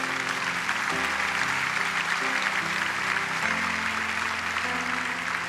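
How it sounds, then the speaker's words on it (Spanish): A church congregation claps loudly and steadily during a Spanish-language sermon, the applause running continuously under sustained music or voices throughout. "Vamos, ese aplauso fuerte al Rey."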